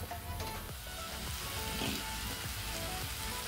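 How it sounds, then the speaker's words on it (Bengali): A spice paste of ground cumin sizzles and fries in a pan as it cooks down, a steady quiet crackling hiss with faint stirring scrapes. "মশলাটাকে এখন আমি ভালো করে কষিয়ে নেব যত পর্যন্ত না জলটা শুকিয়ে যাচ্ছে।"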